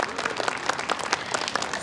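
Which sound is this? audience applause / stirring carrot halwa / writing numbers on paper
audience applause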